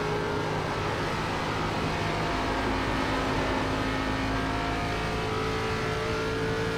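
ARCA Legacy stock car engine in iRacing at Charlotte, held at full throttle in a steady loud drone with constant harmonic tones and no pauses or speech.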